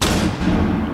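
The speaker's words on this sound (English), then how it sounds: "Flashbang." A flashbang grenade goes off in Rainbow Six Siege as a single dull, muffled thump with a broad wash of noise that fills the whole second without a sharp attack.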